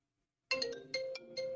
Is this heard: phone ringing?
yes